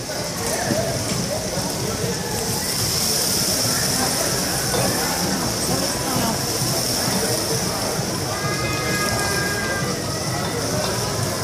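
Chopped onions go into hot oil with crackling cumin seeds while a chef cooks a curry, making a loud, continuous hissing sizzle with fine crackles close by, and a voice speaks over it.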